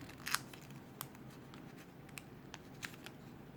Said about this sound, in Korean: 한번 접어서 또 접어서 집어넣습니다.